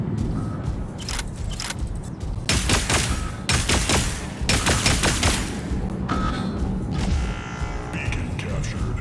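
Dense, heavy weapons fire from mechs in the video game Mech Arena, including a cryo launcher, as rapid loud bursts and sustained volleys over continuous battle noise.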